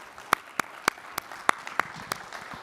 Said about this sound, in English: let's give Lisa a big round of applause